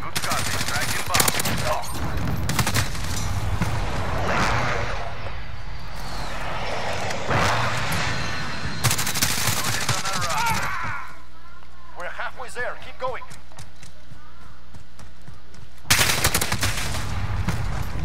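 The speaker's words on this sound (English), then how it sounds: "Oh, somebody shot." Bursts of gunfire during a Call of Duty multiplayer match, rapid shots popping in clusters amid game effects, with a player talking over much of the action.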